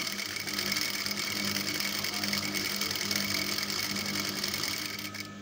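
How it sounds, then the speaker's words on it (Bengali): A sewing machine stitching a stretched elastic band onto a skirt or palazzo waistband, a loud, fast, continuous mechanical whir and rattle close by that slows and fades at the end, with no talking. "এভাবে আমি সেলাই দিয়ে নেব।"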